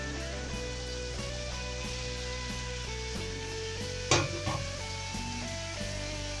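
Raw jackfruit sizzles in a spiced masala that has been cooked down with sugar, a soft, even frying hiss with a few faint stirring knocks and one brief louder scrape partway through.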